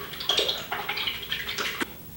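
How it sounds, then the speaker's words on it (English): An acrylic paintbrush is swished and rinsed in a water container during a seascape painting session. Brief close splashing and sloshing comes in a few quick strokes, with no talking. "So I'll put this back in the water, wash it out."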